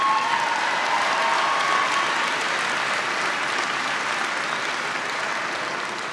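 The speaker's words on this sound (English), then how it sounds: "Give Bill Grace a big round of applause." Sustained applause from a town hall audience in Elyria, Ohio, many hands clapping in a dense, even roar that holds steady and fades slightly toward the end, with no talk over it.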